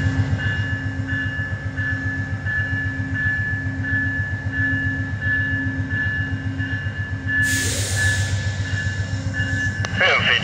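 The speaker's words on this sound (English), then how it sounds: "Amtrak 196, now departing Charlottesville, clear signal." An Amtrak train pulls out of Charlottesville station in Virginia, its wheels clicking in a steady rapid rhythm over a constant low rumble and engine drone, with a brief burst of hissing air near the end.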